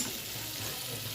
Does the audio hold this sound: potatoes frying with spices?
yes